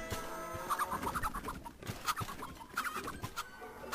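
Chickens in the video game MediEvil Resurrection cluck in quick, scattered bursts, fairly quiet and close, over a faint busy background with no speech.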